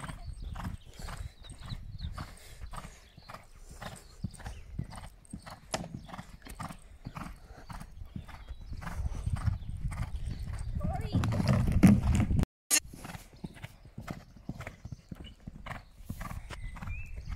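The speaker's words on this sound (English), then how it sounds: "Jumping a horse, that's what you're doing." Rhythmic thudding hoofbeats of a horse moving at pace while jumping, steady strides building toward a heavier impact, with voices speaking over the hooves.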